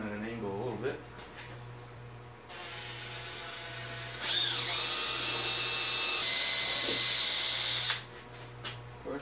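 A power drill bores holes for side mounts on a welding cart, two whining bursts with shifting pitch as the bit bites and slows, close and fairly loud, with a low steady hum beneath.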